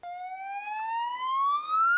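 A police car siren sounds as one loud, steady wail climbing gradually in pitch over about two seconds, alone with no talking.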